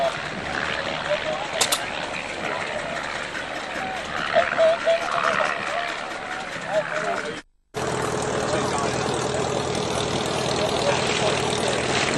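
A small propeller plane, painted in Lafayette Escadrille colours, takes off at a food and flying festival at Shobdon, its engine droning steadily and loudly throughout with one brief dropout, while speech runs over it.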